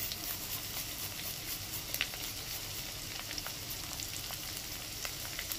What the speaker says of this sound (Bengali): এটাকে পুরোপুরি ভেজে নেব।